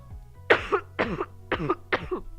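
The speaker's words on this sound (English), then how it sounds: "What a cough." Four harsh, rasping coughs in an even rhythm, each a short burst close to the microphone, with faint background hum between them and no talking.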